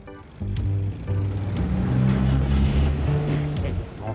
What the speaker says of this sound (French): je vais faire chauffer le moteur.